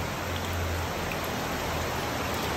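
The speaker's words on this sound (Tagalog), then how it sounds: "Pero malakas pa rin ang ulan." Heavy rain pours steadily over a house in Novaliches, a dense, even hiss with no breaks, close and fairly loud throughout, and no voices.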